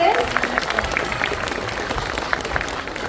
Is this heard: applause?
yes